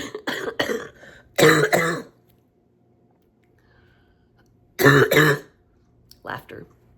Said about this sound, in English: Laughter still makes me cough.